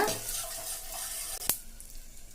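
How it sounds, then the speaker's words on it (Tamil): Mustard seeds, dried chillies and asafoetida tempering in hot oil for a rasam, giving a steady close sizzle with light stirring and one sharp clink partway through. "பெருங்காயத்தூள் சேர்த்து லைட்டா வதக்கி விட்டுக்கலாங்க"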